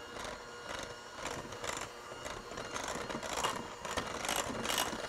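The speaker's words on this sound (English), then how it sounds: "Now we're gonna turn our mixer on low" An electric stand mixer running on low speed while confectioner sugar is added for a brown butter pecan pie, a steady close whirring and rattling churn with a faint rhythmic pulse throughout.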